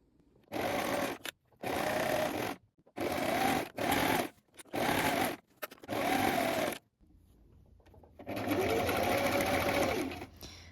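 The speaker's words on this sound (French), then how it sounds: "Donc vous assemblez tout ça à 1 cm du bord et vous surjetez." A sewing machine stitches and overlocks the seams of a fully lined jacket, running in repeated short bursts with brief pauses, then one longer steady run at the end, close and clear with no talk.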